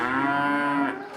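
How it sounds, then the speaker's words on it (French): A Holstein dairy cow on a farm gives one close, loud, sustained moo that lasts about a second. "mais aussi des vaches laitières."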